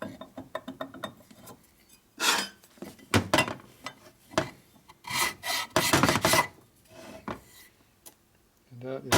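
Metal file rasping on a motorcycle part for a 1941 74ci Knucklehead bobber build, in irregular close scraping strokes with pauses between them.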